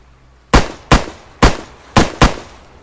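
Five sharp 5.56 rifle shots in the video game Arma 3, fired singly at an uneven pace, each loud crack followed by a short decaying tail.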